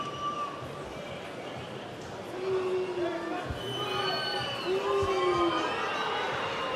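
Rugby crowd at Aimé Giral stadium in a USAP versus Stade Montois match, a broad steady roar of cheering that swells partway through, with a commentator talking over it.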